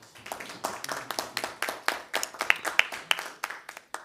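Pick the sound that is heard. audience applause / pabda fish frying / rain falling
audience applause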